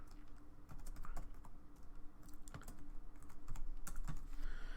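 Keystrokes on a computer keyboard patter in irregular bursts and short runs, close and fairly clear, while a value is entered in Creo Parametric CAD software, with no voices over the clicks.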